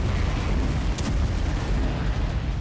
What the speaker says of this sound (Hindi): बम धमाकों से रेफ्यूजी कैंप दहल उठा।